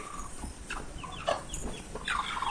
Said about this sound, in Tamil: குஞ்சு நாலு இருக்கு பாருங்க